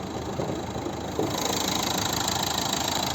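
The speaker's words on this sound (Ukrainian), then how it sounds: "послухайте, як рівно і тихо працює двигун." A 2011 Renault Megane III's 1.5 dCi diesel engine idles close by, even and low-pitched, running smoothly without any voices.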